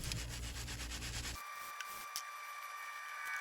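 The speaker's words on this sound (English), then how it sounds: "I'll go ahead and sift some more sand onto this." Sand sifted onto 3D printed casting patterns gives a soft, steady hiss up close for the first second or so, then only faint scattered grains and quiet ticks.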